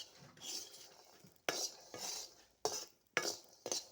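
Peanuts roast in a pan while a utensil scrapes and stirs them. Several sharp scraping strokes sound close and fairly quiet, with gentle rustling between them.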